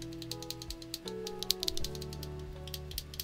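Typing on a Mikit T80 75% three-mode mechanical keyboard, a quick run of close, crisp keystrokes clacking in an uneven rhythm, fairly quiet and with no talking.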